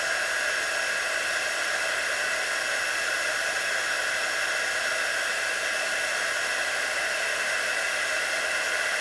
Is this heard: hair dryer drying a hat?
yes